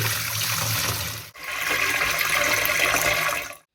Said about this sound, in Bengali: যে মূলো শাকটা এনেছিল সেটাকে একটু জল দিয়ে ভিজিয়ে রাখি